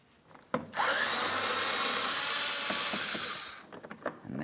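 A power drill spins out a 5.5mm bumper mounting bolt on a Ford Edge, a loud steady whir running about three seconds before winding down, with a few soft knocks from handling the tool afterward.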